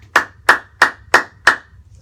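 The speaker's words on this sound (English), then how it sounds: "What if I clap really loud?" Five loud, sharp hand claps in a steady, evenly spaced rhythm, close by in a quiet room.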